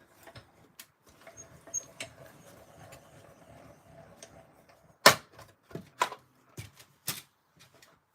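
A top strip of card stock is cut from a Stampin' Up Notes & Totes triple panel card, giving a few sharp, close snips and clicks toward the end after quieter handling rustles.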